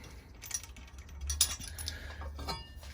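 A knob being unscrewed on a custom Milwaukee bandsaw stand to free the stored square, giving small close ratcheting clicks and light metal rattles over a low steady hum.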